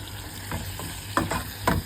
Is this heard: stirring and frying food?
yes